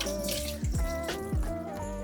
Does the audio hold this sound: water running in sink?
yes